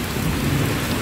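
Heavy rain pouring down outdoors during a walk home from the market, a dense, loud, continuous hiss of downpour with no talk.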